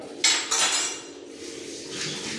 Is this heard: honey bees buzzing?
no